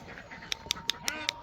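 Short, nasal honking calls from homestead birds repeat in a quick, fairly even rhythm of about five bursts, close by and moderately loud over low background noise.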